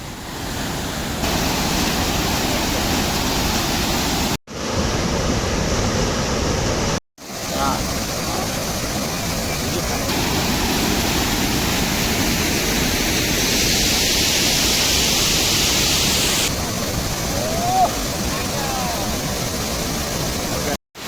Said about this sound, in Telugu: Motugudem water falls